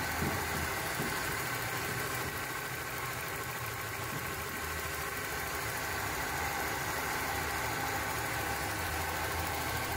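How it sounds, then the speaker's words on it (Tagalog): Steady, even idle of a Toyota Corolla's 4A-FE engine, a continuous close hum with no obvious knocking, heard alone for the whole stretch. "So, ganyan yung tunog ng kanyang makina guys."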